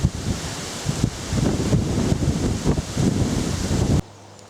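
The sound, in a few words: wind gusts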